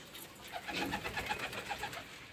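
Pigeons coo softly and repeatedly, a rolling, throaty murmur from several birds close by, with no talk over it.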